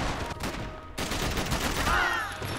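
Multiplayer gunfire in Max Payne 3: a rapid burst of video-game shots with sharp cracks, dense and fairly loud, ending in a ringing effect.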